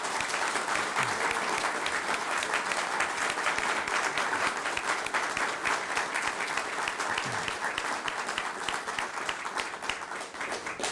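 Sustained audience applause at an Arkansas bill-signing ceremony for a military retired pay tax cut, dense steady clapping from a crowd filling the whole stretch without pause, tapering slightly at the very end.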